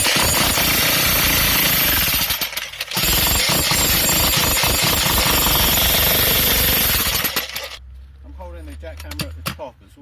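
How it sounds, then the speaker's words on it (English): A jackhammer pounds steadily into a concrete fish pond, loud and close in a continuous rapid hammering burst that briefly pauses, then runs on before cutting off to quieter handling noise near the end. "Jackhammer at the top as well,"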